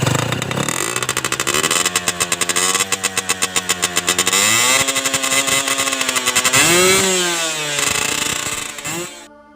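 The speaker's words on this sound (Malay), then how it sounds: "korang dah pun dengar macam mana bunyi exhaust Yamaha 125ZR yang baru saja ditontonkan tadi" A Yamaha 125ZR two-stroke motorcycle with a 0.75 oversize piston runs loud and close, its exhaust crackling at idle, then revving up and down repeatedly with rising and falling pitch before cutting off.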